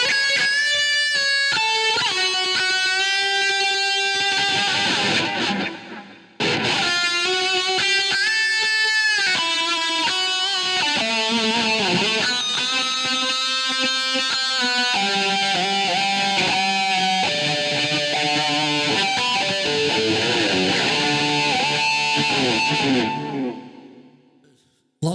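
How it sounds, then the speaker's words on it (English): Electric guitar played through an ENGL Powerball 2 amp and a HeadRush pedalboard with heavy echo: sustained chords and ringing notes trail into dense repeats, continuous apart from a brief break early on, with no talking. "Lots of echo there."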